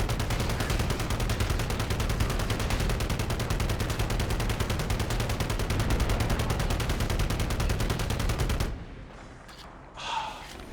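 Automatic human weapon fire in Halo CE, a sustained rapid rat-a-tat stream of shots lasting about eight seconds before cutting off into quieter ambience.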